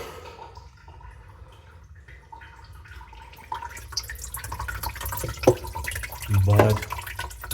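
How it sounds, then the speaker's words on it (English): Water drains from a clogged sink under repair after a full drain assembly replacement, running into a bucket below with light drips and splashes, faint at first and then steadier, with a heavier gurgling surge near the end. "It drains better."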